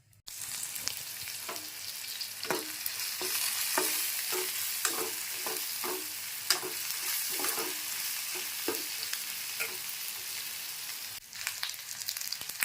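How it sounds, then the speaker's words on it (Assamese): Eggplant pieces frying in oil with a soft, constant sizzle, broken by a run of regular stirring scrapes from a spatula in the pan. "তাতে এতিয়া বেঙেনাখিনি ভাজি ল'ম।"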